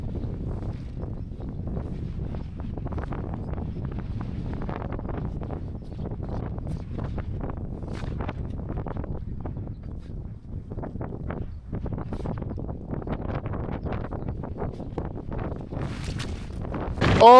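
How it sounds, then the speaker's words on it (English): Strong gusting mountain wind of about 45 mph near the summit of Blake Fell, a constant loud buffeting roar across the microphone with no talk, swelling sharply at the very end. "the wind, man, definitely around about 45 miles an hour"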